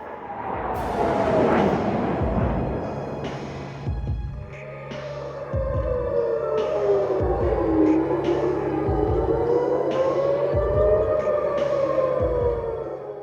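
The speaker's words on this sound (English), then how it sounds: "Sirens activated across major cities." Wailing air raid sirens rise and fall in long, overlapping sweeps across Israeli cities, layered over a deep rhythmic thumping pulse that repeats steadily throughout.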